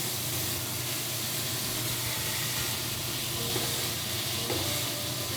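Onions and garlic sizzle steadily in a pot while being stirred, a continuous close frying hiss with faint scraping and no talking.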